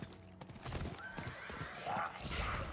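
A horse in the Diablo 4 video game whinnies loudly over clattering hoofbeats and combat noise, a short close burst with a rising, shrill neigh near the end.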